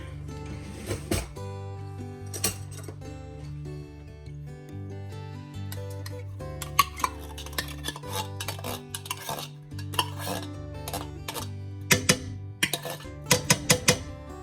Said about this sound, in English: I'm going to stir it up really good